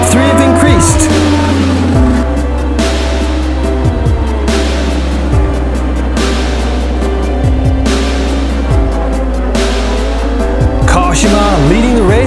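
Superbikes racing on the final lap of a race, engines howling loudly and continuously with rising and falling pitch as bikes shift gears and pass, under a commentator's voice.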